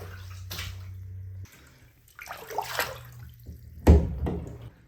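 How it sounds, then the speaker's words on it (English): Water drains from a tub after clothes are washed by hand, with gurgling and sloshing in uneven bursts, a low steady hum in the first part, and a sharp knock near the end. "Drain the water again."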